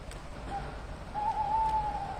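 A tawny owl hooting at night on a nocturnal wildlife walk in the South Downs: one short note, then a longer wavering hoot, faint and distant over a quiet outdoor background.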